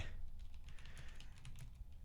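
Quick, light taps on a computer keyboard run in an irregular stream of close clicks over a low background hum.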